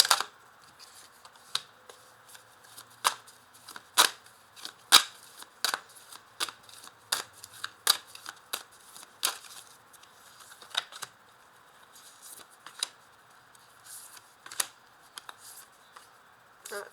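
Tarot cards being shuffled and flipped over one by one, sharp dry snaps and flicks in an irregular rhythm, close and fairly quiet against a near-silent background.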